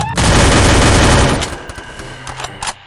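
A loud burst of rapid automatic gunfire in Free Fire roars for over a second, followed by scattered quieter shots and clatter.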